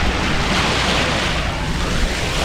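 Ocean waves wash steadily onto a Puerto Rico beach in a loud, continuous surf roar mixed with wind, with no break or pause and no voices.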